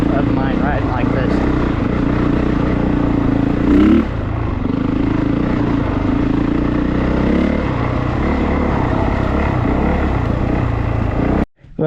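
An off-road motorcycle rides a trail at an offroad park, its engine droning loudly and steadily with clattering and a brief surge partway through, then cutting out at the end.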